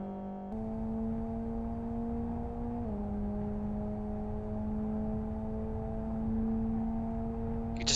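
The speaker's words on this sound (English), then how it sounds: "You can just hear the intake restrictor killing the horsepower in that car as it heads up the back straight." Race car with an intake restrictor accelerating in the Live for Speed driving game, a steady strained engine drone that holds one pitch, drops slightly partway through, and pushes on alone without climbing much.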